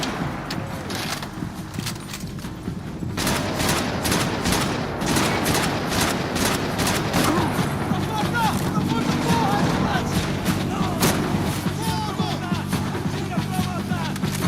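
Bursts of FAL rifle gunfire in Max Payne 3, rapid sharp cracks in irregular volleys over a dense urban-combat din, loud and close, with a voice talking at times.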